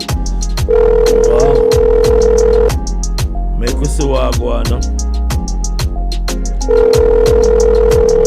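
Telephone line tone on a daily broadcast radio show, a steady tone sounding twice in long stretches under music and a talking voice.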